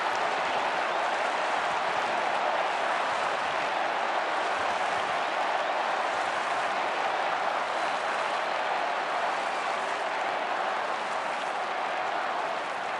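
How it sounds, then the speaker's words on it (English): A large football crowd of Eagles supporters cheers at a 2011 semi-final between West Coast and Carlton, a dense, continuous roar that holds steady throughout without a break. "Eagles fans trying to cheer their Chargers home."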